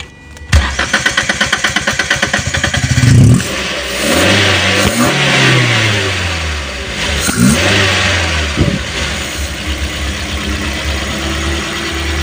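A Daihatsu Gran Max dual VVT-i engine cranks and starts, then revs loudly and unevenly up close as its throttle body is cleaned, surging and settling several times with no talking.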